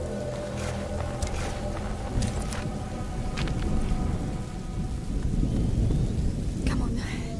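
Rain and rolling thunder in A Plague Tale: Innocence, a steady dense downpour with low rumbles swelling and fading, fairly loud and continuous, with brief voices speaking over it.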